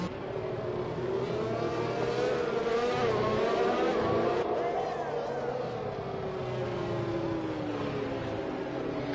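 Race cars lap a track in a tier 2 European prospects series, engines droning steadily and loudly throughout as they run near, the pitch rising and falling as the cars accelerate and back off.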